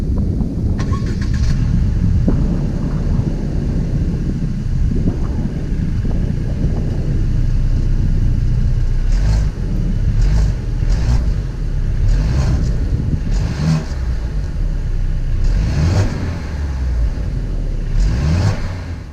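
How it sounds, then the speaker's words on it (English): A 2018 Mercedes-Benz E300 with a 4-cylinder engine rumbles loudly nearby, its exhaust note swelling through several revs before settling back to a steady idle, with no talk. "you're getting a pure exhaust note from that. And I'll include an exhaust note in this clip here"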